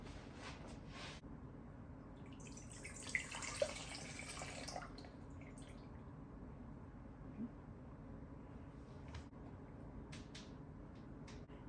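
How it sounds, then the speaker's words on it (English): Excess cooking water from a pan of kufteh kabobs being poured out into a sink, a faint splashing pour for a couple of seconds over a low background hum. "there's a lot of excess water in this dish. We're just gonna dump it out."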